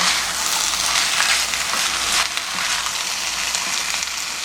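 Loud, steady sizzling and crackling of chicken stir-frying in a hot coated pan for soy-braised chicken, with occasional scraping as it is stirred, no voices.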